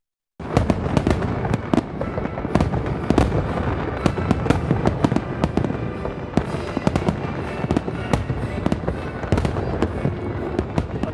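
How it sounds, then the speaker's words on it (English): Fireworks at a large Independence Day celebration in Nashville crackle and boom continuously, dense overlapping bursts and sharp reports echoing in an open outdoor space. "I'll take a listen to the fireworks out here for a second."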